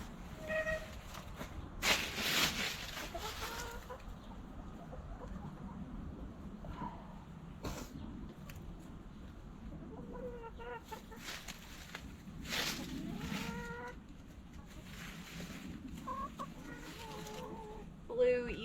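Backyard chickens cluck and murmur close by in warm weather, with soft rustling and a few brief louder bursts; a person speaks quietly at moments.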